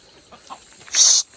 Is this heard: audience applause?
no